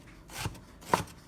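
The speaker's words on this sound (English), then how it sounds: "chopping is all in the wrist" Two crisp knife strokes chop food on a cutting board, spaced about half a second apart, close and clear with no talking.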